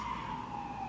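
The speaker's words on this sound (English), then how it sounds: "Yes, my friendly local ambulance service." An ambulance siren holds a steady, slowly sliding wail at moderate distance, heard briefly and alone over a low background hum.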